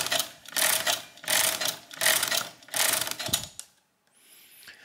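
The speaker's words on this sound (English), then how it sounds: "I can now shift the register one stop to the right, to the tens digit, which I'll make 5 by turning the crank 5 times." An Odhner arithmometer mechanical calculator is cranked by hand through five rapid turns, each a dense clattering whir of gears and ratchets, close and steady, then it stops in near silence.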